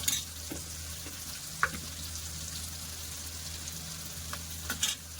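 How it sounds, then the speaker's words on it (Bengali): Ginger garlic paste with sour yogurt sautéing in a pan: a faint, steady low sizzle with occasional soft spatula scrapes and small clicks, no talking. "এবার আমি এটা ভালো করে কষিয়ে নেব"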